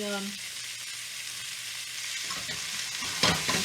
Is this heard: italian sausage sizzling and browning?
yes